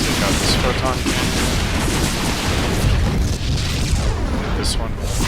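StarCraft II: Wings of Liberty units attacking a Protoss photon cannon, a dense, loud barrage of booms and rapid weapon fire that runs continuously, with someone talking over it.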